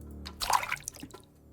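Drinking water in the post-apocalyptic strategy game Lost Scavenger, a short splashy gulp and trickle of liquid lasting about a second, close and clear with no talking.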